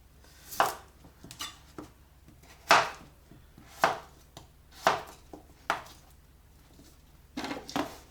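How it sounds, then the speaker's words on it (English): Kitchen knife chopping vegetables for a simple vegetable curry, about seven crisp, close chops on a board with a steady rhythm and faint quieter taps between them, no talking. "Look how easy that goes through. Like butter."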